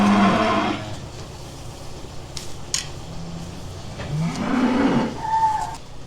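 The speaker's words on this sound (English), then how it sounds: "the cattle are trying to eat it" Cattle moo close by while feeding on a damp, spread-out hay bale on a farm. One low moo opens the clip and a second, longer one swells near the end over steady rustling.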